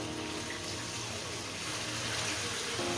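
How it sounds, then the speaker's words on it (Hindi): Water pours into a cooking pot of aloo chicken with potatoes, a soft continuous splashing stream that swells slightly toward the end. "अब हम इसमें पानी ऐड करेंगे।"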